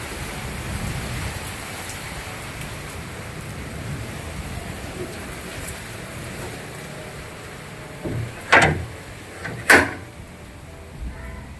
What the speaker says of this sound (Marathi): खूप भयानक पाऊस आहे